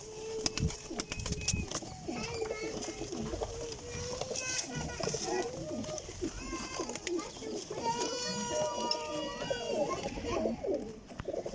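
Several pigeons coo repeatedly near at hand, with soft throaty calls overlapping through the whole stretch while people talk nearby.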